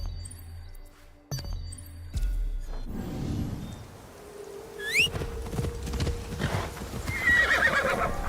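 Video game horse sounds: repeated hoof clip-clops of a galloping horse with a sharp whinny midway, over game ambience and background music, loud and close with no talking.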